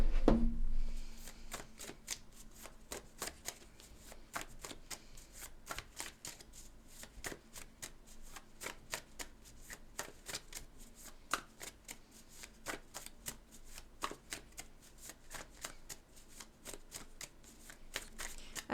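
A deck of cards is shuffled close up for nearly twenty seconds: a dense run of rapid, crisp riffling clicks in repeated bursts, with no talk.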